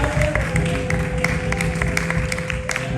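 A church congregation at a Thanksgiving Sunday service claps and applauds together, a dense, continuous patter of many hands filling the room throughout.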